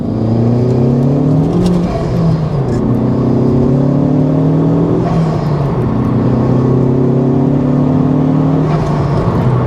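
A Honda Civic Type R FK2 engine with an Eventuri intake revs hard through the gears, pitch climbing in repeated sweeps, loud and close with a throaty intake roar.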